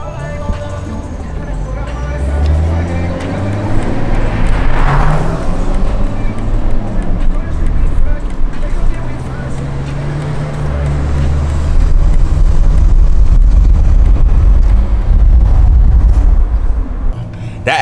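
Deep rumble of a BMW M3 E92 with its naturally aspirated S65 V8, heard close and loud as it idles and revs, the pitch rising in sweeps and the low roar growing stronger toward the end; voices speak over it.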